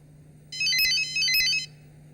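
A cell phone ringtone plays as a bright, electronic trill in two short bursts, clear and close over a low steady hum, with no talking.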